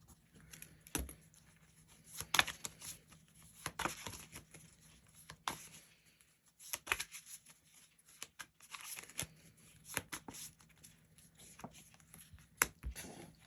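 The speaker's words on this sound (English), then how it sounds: "let's shuffle up and see what settlement we get" A deck of game cards for a dungeon-crawling board game is shuffled by hand in a quiet room, with soft repeated riffles and snaps in irregular bursts, close and fairly faint.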